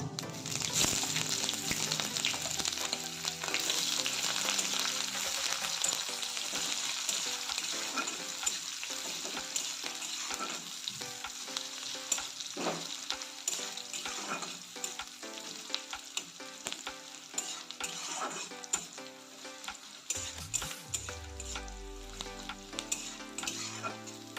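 Panch phoron spices and onion fry in hot oil for a zika (ridge gourd) curry, a steady loud sizzle with stirring scrapes and occasional clinks throughout, no voices.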